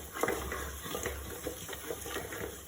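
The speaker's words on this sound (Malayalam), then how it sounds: "ഇടയ്ക്കിടയ്ക്ക് ഇങ്ങനെ ഇളക്കി കൊടുക്കണം" A white chickpea curry stirred in coconut oil in a pan, Kerala style, makes repeated scraping strokes over a light sizzle, close and alone.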